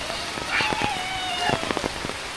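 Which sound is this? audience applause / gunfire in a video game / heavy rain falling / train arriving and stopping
heavy rain falling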